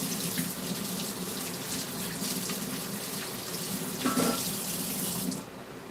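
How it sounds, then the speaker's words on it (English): A kitchen tap runs steadily into a sink for handwashing, a constant close splashing flow with brief changes in pitch as hands move under the stream, stopping just before the end. "let's go wash my hands a minute."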